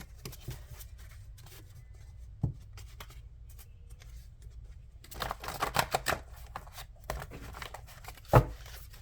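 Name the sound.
shuffling a deck of tarot cards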